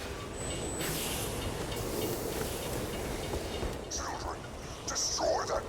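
A train rolling along in the shooter Borderlands 2, a steady rumbling drone of rail wheels and machinery with a faint metallic squeal, and game voices talking over it near the end.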